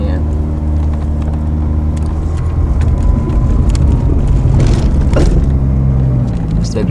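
A manual-transmission car drives along and pulls in toward a garage, its engine a steady loud low rumble close by throughout, with faint scattered bumps and road noise.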